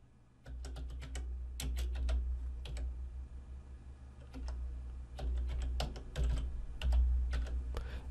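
A command being typed on a computer keyboard into an administrator command prompt: close, quick clusters of key clicks in irregular bursts separated by short pauses.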